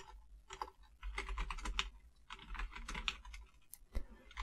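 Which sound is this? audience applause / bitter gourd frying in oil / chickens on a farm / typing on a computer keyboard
typing on a computer keyboard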